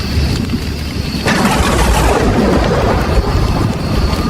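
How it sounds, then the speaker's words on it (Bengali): A thunderclap from a lightning strike cracks in abruptly and then rolls on as a loud, sustained rumble with a rain-like hiss, with no voices present. "বিকট এক শব্দে বাজ পড়ল আকাশ থেকে তাদের 5 জনার মাথার উপর।"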